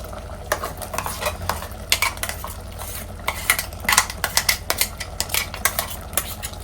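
A spoon scrapes and clatters in a pan as ground spice paste is stirred into mutton gravy, irregular close metallic knocks over a soft steady sizzle.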